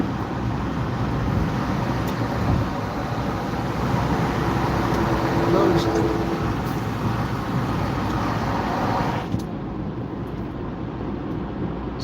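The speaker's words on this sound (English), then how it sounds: "You'll see the semi truck coming up." A large truck roars past on a highway amid steady road and wind noise, the rumble swelling and then dropping away.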